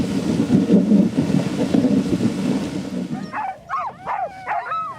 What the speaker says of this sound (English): The moment we stopped, the howling and barking began.